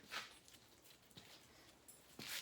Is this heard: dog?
yes